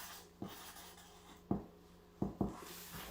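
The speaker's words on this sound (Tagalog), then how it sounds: "Okay, isulat ko dito, ha?" A marker squeaks and taps against a board in a quiet room: four short, sharp strokes, one alone early and three clustered later, close and distinct with no talking.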